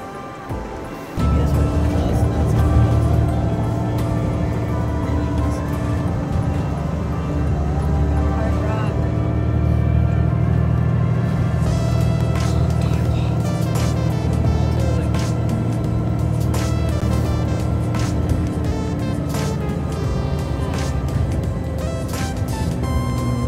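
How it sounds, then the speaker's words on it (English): A bus pulls up on a Las Vegas street near the Excalibur and New York-New York with a steady, close, low engine rumble. Traffic noise and a voice sit over it. "And here comes our bus."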